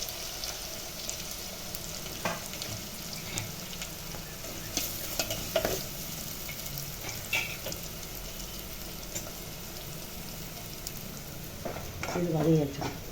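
A steady sizzle of sambar onions frying in a pan for fish kuzhambu, with occasional stirring scrapes and light crackles throughout.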